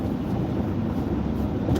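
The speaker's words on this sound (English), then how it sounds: "You can hear that truck." A truck rumbles past on the road outside a moving car, a low, broad roar of engine and tire noise that stays steady and fairly close, swelling slightly at the end.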